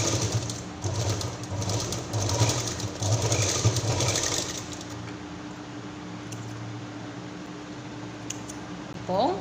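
Home sewing machine stitching a small cloth key chain purse: a close, rhythmic whirring chatter for about five seconds, then a quieter steady hum with faint clicks.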